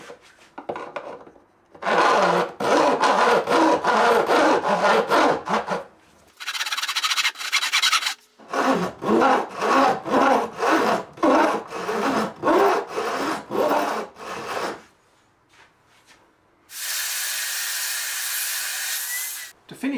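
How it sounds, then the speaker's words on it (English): A metal file grates across the frets of a guitar fretboard, rasping in loud, steady back-and-forth strokes grouped into several long bursts with short pauses; no one speaks. "when we stop hearing the metal grating sound"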